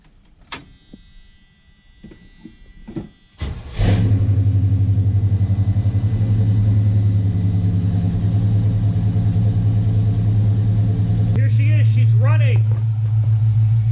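A Square Body Chevy truck's engine starts and runs steadily on a test drive after a radiator replacement, a loud, even rumble following some quiet clicks and handling noises, with a brief rising whine near the end.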